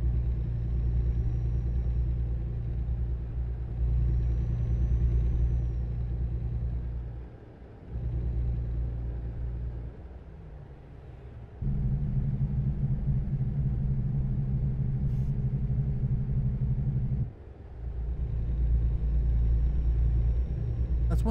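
A FedEx Freight truck engine in American Truck Simulator, a steady deep rumble with shifts in pitch and brief dips as gears change, loud and continuous throughout.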